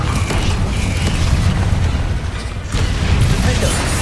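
Confringo blasting spell fired in the Hogwarts Legacy video game, a dense, loud, continuous booming roar with crackling texture and a brief dip partway through before surging again.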